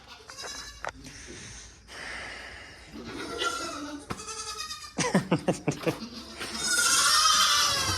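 Goats, including an ornery baby goat, bleat and snort repeatedly at close range, a quick run of short calls near the end, mixed with a person talking.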